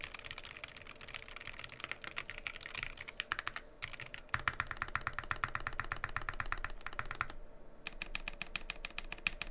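Fast bursts of clacky keystrokes come from a Keycult No. 1/65 keyboard fitted with Gateron Black Ink switches and GMK Olive keycaps. The typing is close and crisp, with brief pauses between runs and no voices.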